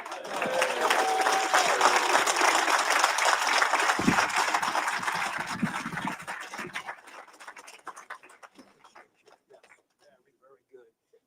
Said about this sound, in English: Can we give Steve Wilson another round of applause?